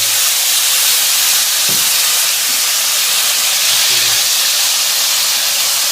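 Minced garlic sizzles in a hot pan over lowered heat as it is stir-fried for a fermented soybean paste fish soup: a steady, loud broadband hiss with a few soft clanks, no talk.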